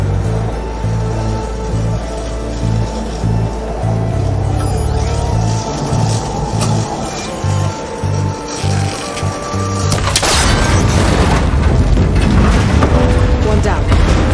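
A gunshot in the video game Horizon Forbidden West breaks a cable connector, bursting loud around the middle into a dense, sustained crash over rhythmic game music that pulses through the first part.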